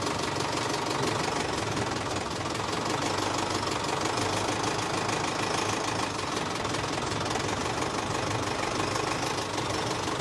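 A 1974 Mercedes O309 bus with an OM314 diesel engine runs steadily with a loud, rough knocking idle that drones on without a break. No voices are heard.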